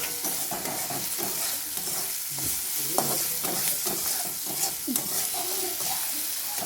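Prawns sautéing with chili in a pan, a constant loud sizzle broken by repeated scraping strokes of a stirring spoon, close up with no talk.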